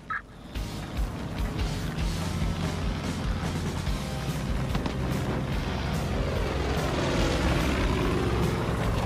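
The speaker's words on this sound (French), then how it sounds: "Détruisez l'avion de l'élu." Propeller airplane roaring steadily through aerial combat in the Far Cry 5 video game, a dense continuous engine drone with gunfire-like crackle layered throughout, loud and unbroken with no talk.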